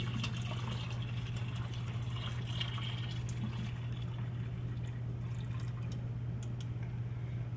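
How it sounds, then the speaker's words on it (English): Beer wort pours steadily into a keg, a continuous splashing gush with a low steady hum underneath, no speech. "so here's the wort, and we're going to go ahead and put this in the keg"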